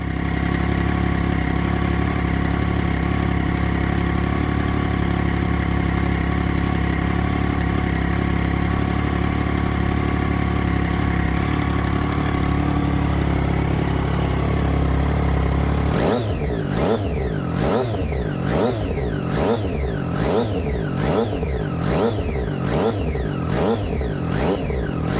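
A Triumph Street Triple motorcycle back in running order idles steadily and loudly up close for about fifteen seconds, then revs hard again and again, each blip rising and falling sharply in a quick repeating rhythm.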